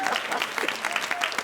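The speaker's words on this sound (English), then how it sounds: "you can clap." Brief, lively burst of audience clapping at a television awards benefit gala, dense and fairly close, with a few voices mixed in.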